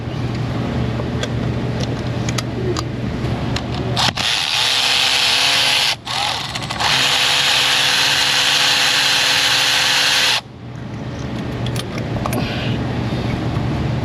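A spark plug socket on a ratchet works a spark plug loose from an engine in a busy auto repair shop, a steady loud whirring drive running about six seconds with a brief break in the middle, amid shop background noise.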